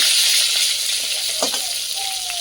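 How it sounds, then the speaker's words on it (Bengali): Eggplant pieces frying in hot oil in a home kitchen, a steady hissing sizzle throughout with a couple of faint clinks and no talking. "তেলটা গরম হয়ে গেছে বেগুনগুলো দিয়ে দেব"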